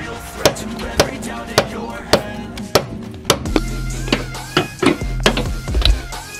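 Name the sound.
hammer blows on Jeep Cherokee long arm kit part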